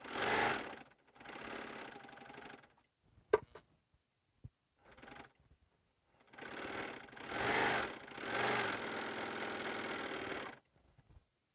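A sewing machine running without a bobbin, heard in several bursts of fast mechanical whirring, close and moderately loud, broken by pauses with a few small clicks and knocks.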